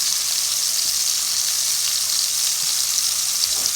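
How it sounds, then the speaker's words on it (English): Bread toasting in a cast iron skillet over medium heat gives a steady, close sizzle and hiss that holds evenly throughout, with no talking. "I'm going to toast my toast in a cast iron skillet this morning."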